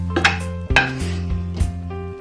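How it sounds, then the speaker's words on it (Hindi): A spoon scrapes and clinks against a pot and serving dish while bhindi (okra) halwa is dished out, in a few distinct bursts of metallic clatter close by. "अब इसे हम डिश आउट करते हैं।"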